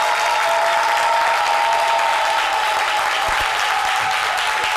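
Applause from an audience at a live French-language talk show taping, a steady, fairly loud and even wash of clapping throughout, with no voices.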